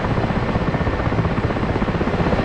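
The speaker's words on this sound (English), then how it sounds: "This is a peaceful helicopter." Helicopter in the DCS World flight simulator, its rotor beating in a loud, fast, even rhythm close by, alone with no talk.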